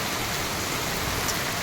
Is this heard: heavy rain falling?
yes